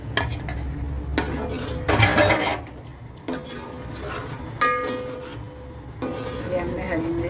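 Green chillies tipped into a cooking pan already holding tomatoes, giving a few close scraping and clattering stirs with a soft sizzle underneath and a voice talking at times.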